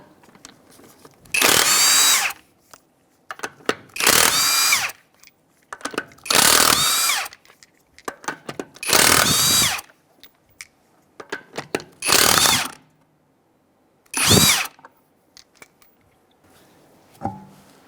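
Impact wrench or power drill loosening the 21 mm lug nuts on the passenger-side front wheel of a 2007 Mazda CX-9, in repeated loud bursts of one to two seconds with short pauses between them.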